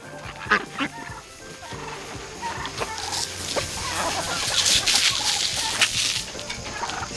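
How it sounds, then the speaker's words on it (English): Chickens and ducks on a farm at feeding time, a loud, busy chorus of clucking and squawking that builds over several seconds, with no talk. "you can hear them, they're really loud"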